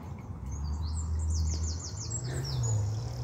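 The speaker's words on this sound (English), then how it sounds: "Rooks." Rooks calling in a garden at Pulford near Chester, repeated harsh chirping calls over a steady low hum and background noise, fairly distant.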